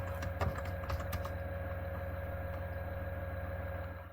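Fingers type a search on a computer keyboard, a quick burst of close key clicks at the start that then thins out, over a steady low hum.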